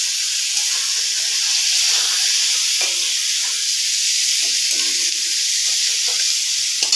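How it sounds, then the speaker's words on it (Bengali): Fried fish goes into a pan of spice masala and sizzles, a loud, steady frying hiss with faint stirring clinks underneath, close up and continuous. "এখন আমি না ভেজে রাখা মাছটাকেও দিয়ে দেবো"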